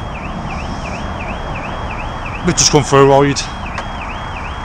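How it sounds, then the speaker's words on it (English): A car alarm warbles steadily in the background, a repeating rising-and-falling electronic tone heard throughout while a rider stops on a motorcycle outing; someone speaks briefly and a short burst of honking-like calls cuts in midway. "you can hear the car alarm going off"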